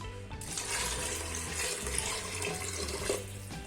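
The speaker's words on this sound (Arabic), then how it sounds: "دابا غادي نعمر عليها بالماء" Water from a tap gushes into a pot of split peas and olive oil for Moroccan bissara, a loud, close, continuous pour that starts abruptly and runs steadily throughout.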